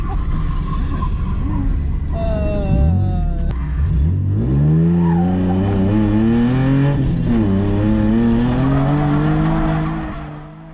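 A Nissan 350Z drifting, engine revving hard with rising and falling pitch and sustained loud tire squeal, close and continuous before fading at the end.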